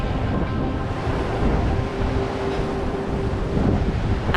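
Steady wind buffets the microphone with a continuous rough rumble and hiss, loud and unbroken throughout, outdoors at Wat Khao Takiab in Hua Hin, Thailand.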